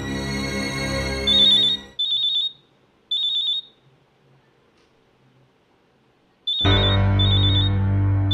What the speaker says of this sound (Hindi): अरे ये किसका फोन है?